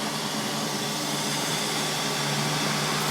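A Neato D8 robot vacuum with a full-size brush bar runs on carpet, giving a steady, even broadband whir and hum that holds at a constant level throughout, close by, with no talking.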